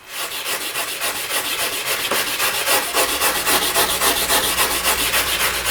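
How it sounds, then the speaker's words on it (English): A stiff brush scrubs tile grout with plain water and no chemicals, giving a steady, close, continuous rasping that holds its rhythm throughout. "We're going to give it a pretty good scrubbing just to illustrate how much grout is actually removed."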